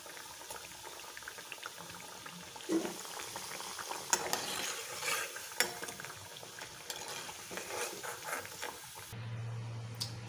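Methi muthiya dumplings bubble and fry in hot oil, a soft steady crackle with occasional stirring clinks and scrapes, fairly faint and without talk.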